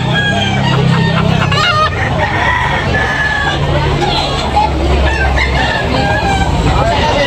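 Roosters crow repeatedly and chickens cluck close by at a market in Tabunok, over a busy background of crowd chatter and people talking.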